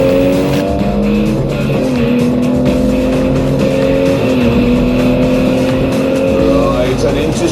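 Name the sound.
sports car driving hard through a corner on a track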